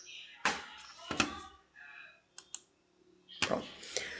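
Keyboard typing during a spoken lesson, heard as a few sharp separate clicks and short bursts at close range, with quiet gaps between them and faint speech in the background.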